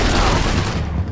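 A Max Payne 3 firefight where surrounding objects splinter, break and explode: loud, continuous gunfire and crashing impacts, dense and chaotic throughout.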